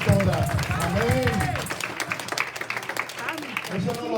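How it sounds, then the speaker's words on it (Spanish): Church congregation applauding their pastor during a service, a burst of clapping over voices that fades into scattered claps and a voice speaking. "Un aplauso al Señor por su pastora."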